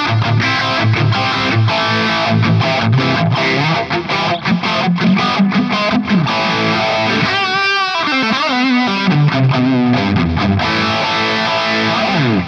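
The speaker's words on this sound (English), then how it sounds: "since it's a rhythm guitar tone, I don't want too much of ambience around it" Heavily distorted electric rhythm guitar from a ToneX amp capture through an IR loader, chugging steadily with a light reverb tail, loud and continuous throughout, with no voices.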